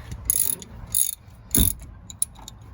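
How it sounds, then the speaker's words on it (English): Socket ratchet with a 14mm socket tightening brake bolts on a 2006–2011 Ford Ranger during a front brake job: a few short, bright ratcheting bursts of clicks in quick succession, close up, with no talking. "We can grab our 14mm socket and tighten them back down."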